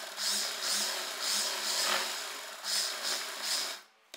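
A sewing machine runs a straight seam along the back of a kurti in bursts of fast, whirring stitching, close and fairly loud, stopping near the end with a small click.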